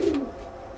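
A tippler pigeon at a loft gives a single short, close coo that fades quickly, with no talk.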